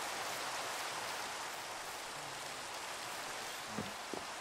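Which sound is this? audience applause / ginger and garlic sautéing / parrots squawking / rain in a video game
rain in a video game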